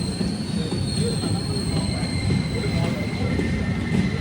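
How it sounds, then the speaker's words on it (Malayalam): Intercity Express train arriving at Thiruvananthapuram Pettah railway station, a steady loud rumble of rolling wagons with faint high wheel squeal throughout. "9:40 ട്രെയിൻ ഇതാ തിരുവനന്തപുരം പേട്ട റെയിൽവേ സ്റ്റേഷനിലേക്ക് എത്തുകയാണ്."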